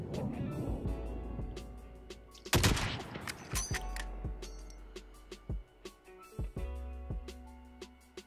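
Gunfire in the battle royale shooter Call of Duty: Warzone: a heavy blast, then a run of sharp, irregular shots, some near and some distant, over a low game rumble.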